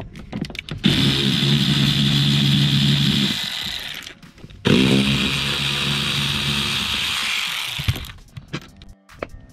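A power tool whirs on seat bolts in a BMW 335i E90 interior, two sustained buzzing runs of about three seconds each separated by a pause, loud and close.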